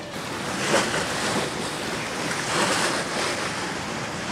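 Wind and sea noise roar steadily aboard a sailing boat off southern Brittany, swelling in a couple of 12-knot gusts, with no voices present.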